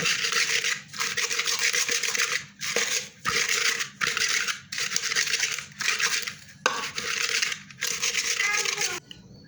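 Green chillies, still hot, crushed with a clean glass into a chilli, onion and salt mash, giving repeated scraping, grinding strokes in about seven bursts with short pauses between, close and fairly loud.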